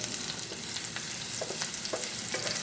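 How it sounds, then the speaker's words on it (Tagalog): Onions sautéing in a pan for adobo, a steady close sizzle with light scrapes and clicks of stirring throughout, no voices. "Ginigisa ko na ngayon ng sibuyas."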